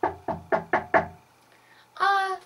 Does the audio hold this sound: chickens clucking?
no